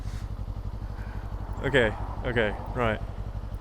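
A 2024 Kawasaki Z7 Hybrid motorcycle runs with a steady low engine drone throughout, its pitch dipping briefly as a gear is shifted, while someone speaks over it in short bursts.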